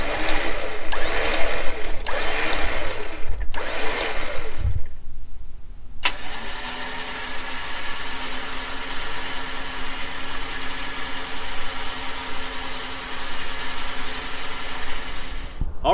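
Vehicle engine heard during an off-road winch recovery using a snatch ring in a double line pull: several revving pulses, a short pause, then a steady close running drone with a faint whine.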